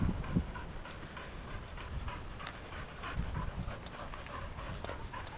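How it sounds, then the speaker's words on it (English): A dog outdoors a short way off, heard as soft panting and light movement against steady ambient noise, with no talking. "Scrap, there's a dog right over there"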